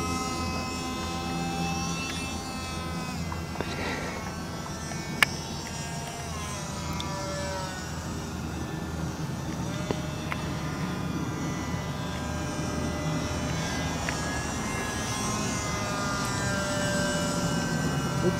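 A small stick-type model airplane on its maiden flight buzzes steadily overhead, its thin whining engine tone drifting up and down in pitch as it passes at moderate distance, without speech.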